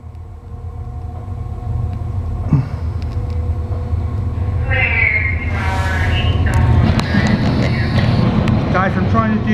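Union Pacific eastbound intermodal freight train led by three Union Pacific locomotives passing in Marion, Ohio: a loud, steady low rumble builds and holds close throughout, with sharper metallic squeals and rattling rising over it partway through.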